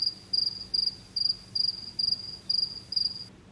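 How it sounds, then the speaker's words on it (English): Crickets chirping in steady, evenly spaced bursts of high trills, about eight pulses over a few seconds against a quiet low background hum, with no voices. "The crickets never stop chirping for this man."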